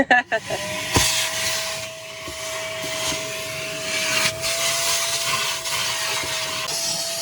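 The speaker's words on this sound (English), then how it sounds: "Time to vacuum." A vacuum cleaner whines steadily and loudly aboard an old Hallberg-Rassy sailboat during portlight installation, starting with a few bumps and then running continuously with a constant high tone and broad hiss.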